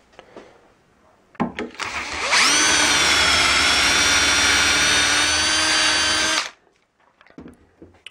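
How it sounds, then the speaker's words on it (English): A power drill bores a dowel hole in wood with a dowelling jig while making a door frame. The motor spins up with a whine, holds a loud steady pitch for about four seconds, then stops, with handling clicks before and after. "from here we can drill the fourth also"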